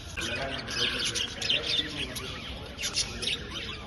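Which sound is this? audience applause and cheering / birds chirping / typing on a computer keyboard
birds chirping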